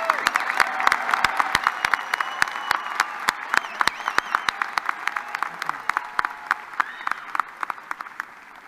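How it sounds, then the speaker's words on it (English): Commencement audience at a fall university graduation ceremony applauds graduating candidates from the College of Agriculture and Life Sciences, a steady crowd clapping with sharp individual claps standing out throughout. "Let us again applaud those candidates from the College of Agriculture and Life Sciences."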